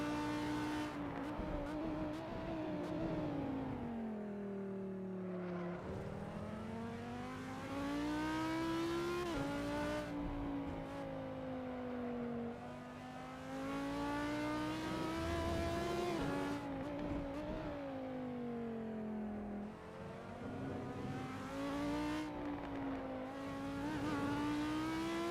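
Race cars circling Nurburgring in a sim racing endurance event, engines droning loud and continuous with rising and falling pitch as gears shift and revs climb repeatedly, no talk.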